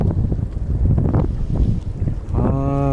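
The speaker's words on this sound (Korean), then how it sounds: "아유, 강풍이다 강풍. 낚시가 불가다 불가요." Strong gusts buffet the microphone beside the water during freshwater fishing among submerged trees, a loud rough rumble throughout, with a brief tonal hum near the end.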